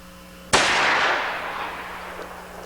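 A single rifle shot rings out outdoors, a loud sudden crack followed by a long fading echo that trails off over about two seconds.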